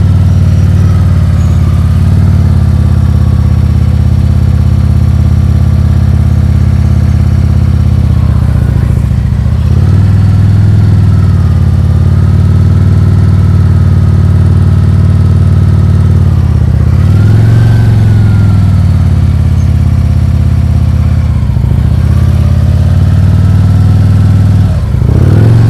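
A motorcycle engine during slow-speed riding practice in Illinois, a loud, steady, close low rumble held at constant revs, with small dips and surges as the throttle is adjusted, and no talk.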